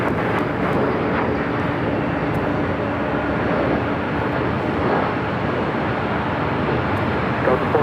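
An airplane lands on runway 24 right at LAX, a loud, steady roar of engine and rushing noise that holds throughout, close and dominant, with radio chatter faintly mixed in.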